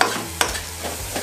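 Spices such as bay leaf, turmeric leaf, lime leaf, galangal and lemongrass sautéing in a pan, with a soft steady sizzle and a stirring scrape.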